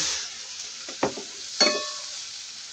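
Shrimp sizzle in a non-stick pan with a soft, steady hiss. Two brief bursts of louder sizzling and stirring sit close by, with a faint clink of cookware and no talk.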